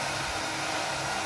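A hair dryer blows steadily on freshly applied decorative plaster on a wall, drying it in a checkerboard pattern, with a continuous broadband airy whoosh and motor hum held at a constant level throughout.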